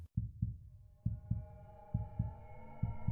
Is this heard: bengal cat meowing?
no